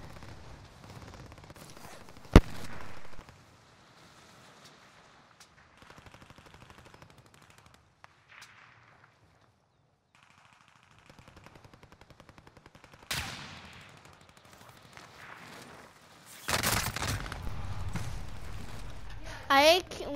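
Bursts of automatic gunfire and sharp single shots from a war-zone video game, scattered across the stretch with quieter gaps between, the loudest volleys near the start and toward the end.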